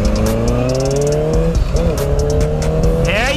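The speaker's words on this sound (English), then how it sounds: "It has a Two Brothers exhaust, which is making a beautiful growl right now." A Honda CBR 650 motorcycle fitted with a Two Brothers exhaust growls loudly up close, its engine note holding steady then sweeping in pitch as the throttle changes.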